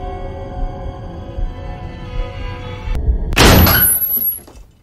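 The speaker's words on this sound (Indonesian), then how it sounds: "buka pintu aja suaranya lebay banget" In a Thai horror film, a wardrobe door bursts open with a loud, sudden crash after a quiet, tense stretch, followed by a ringing high tone before the sound fades.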